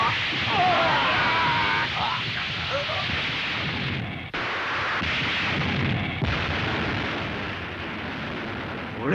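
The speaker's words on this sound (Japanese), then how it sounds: "これだけ撃てば仮面ライダーは完全に死んだな" Gunfire rings out in a Kamen Rider V3 episode as a dense, continuous roar of shots and blasts that saturates the whole stretch, loud and close. Brief dips in the barrage occur, and voices can be heard shouting beneath the noise.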